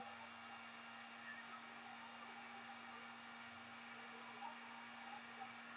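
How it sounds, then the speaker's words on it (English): A heat gun blows hot air to dry paint on a miniature model, giving a steady, even whirring hiss with a constant hum that runs unchanged throughout at moderate level. "This heat gun gets extremely hot and it will just melt your model if you're not careful."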